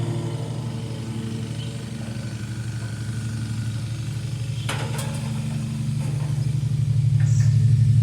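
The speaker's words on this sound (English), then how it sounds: "I apologize for the noise in the background. My neighbor's mowing." A neighbor's lawn mower drones steadily at mid pitch in the background, swelling slightly louder toward the end, with no talking.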